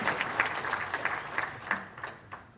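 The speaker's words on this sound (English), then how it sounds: "Please give him another round of applause." Audience at an African Union ministerial meeting on social development and labour gives a round of applause, a short burst of steady clapping from a modest crowd that thins out and tapers off.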